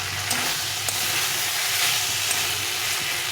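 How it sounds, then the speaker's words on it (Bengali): Tomatoes for a fish curry fry in a pan, a steady dense sizzle and crackle with occasional small pops, close and continuous with no voices. "এখন টমেটোটাকে ভালোভাবে কষিয়ে নিয়ে তারপরে জলটা দিয়ে দেবো"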